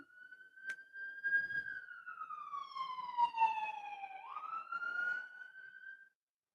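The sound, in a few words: ambulance siren passing on the road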